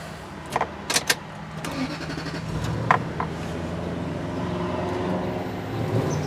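A 2001 Toyota Sequoia with newly changed ignition coils: a few sharp clicks and clunks, then the engine catches and settles into a steady, even idle that runs on to the end.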